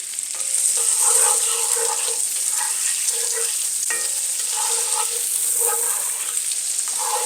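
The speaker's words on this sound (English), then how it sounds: "I'm just gonna put the asparagus and the garlic in at the same time" Asparagus and garlic hit hot oil in a pan for a chickpea and za'atar pasta, a bright continuous sizzle with repeated scraping stirs and light clinks, close and fairly loud.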